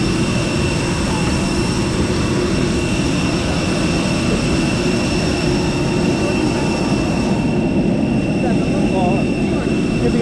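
An airplane moves at the airport, heard from a window seat as a loud, steady jet engine drone with a constant whine for the whole stretch.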